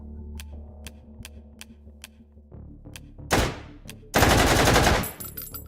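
Full-auto gunfire from a rifle in the VR shooting game H3VR at a shooting range: a couple of sparse clicks, then a short rapid burst followed by a longer sustained automatic burst, loud and close.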